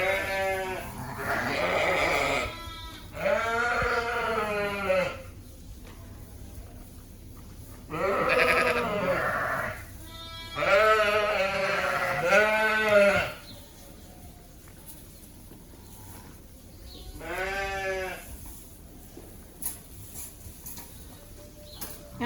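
Sheep and young lambs on a farm bleating in a series of wavering calls, several loud nearby cries spaced with short quiet gaps, and a fainter bleat toward the end.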